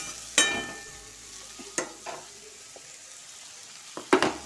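Sliced eggplant fries in a little oil in a pan, with faint sizzling broken by a few sharp clinks and scrapes of a spatula stirring, quiet and close with no talking.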